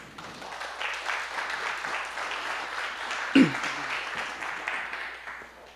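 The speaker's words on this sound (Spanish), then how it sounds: "¿Cuántos le dan un aplauso al Señor?" A church congregation at a Spanish-language worship service applauds for the Lord, a steady wash of clapping with a brief louder burst partway through, and faint voices mixed in.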